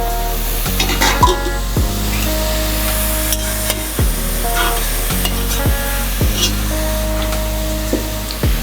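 Chicken cooking in AMC cookware with the lid off, a steady loud sizzle broken by repeated spatula scrapes and turning sounds, no voices.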